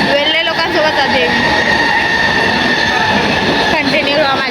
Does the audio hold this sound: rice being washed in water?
no